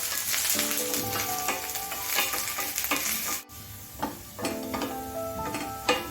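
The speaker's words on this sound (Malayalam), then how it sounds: "ആവശ്യത്തിന് വെളിച്ചെണ്ണ ഒഴിച്ച് കൊടുക്കാം ആദ്യം ഇഞ്ചി ചേർത്ത് ഒന്ന് മൂപ്പിക്കുക" Ginger sizzles in coconut oil in a pan, a soft crackling hiss with light stirring taps and a brief ringing metallic tone running underneath.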